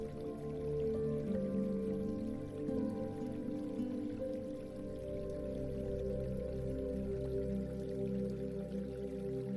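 Water flows steadily along a stream in a continuous, gentle wash of sound that stays at an even level throughout, with no voices present.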